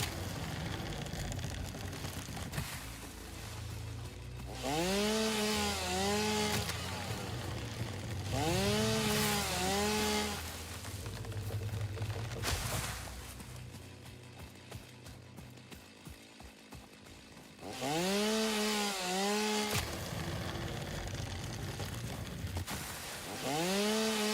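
A chainsaw in the game Satisfactory revs and cuts in repeated bursts, each rising whine lasting a second or two with rough buzzing between, loud and close with no talk.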